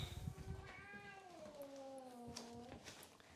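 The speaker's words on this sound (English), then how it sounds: "All right, this cat is not happy." A cat meows repeatedly while waiting to be fed, with long drawn-out, wavering cries close by and some background noise and bumps at the start.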